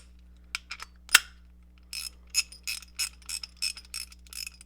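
A Top Kogyo handy-ratchet, a Japanese hand tool, turned backwards gives quiet, irregular mechanical clicks, with one sharper metallic snap early on and then a loose run of soft ticks.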